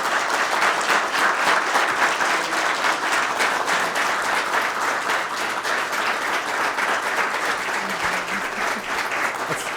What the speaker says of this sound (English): That's an extended applause.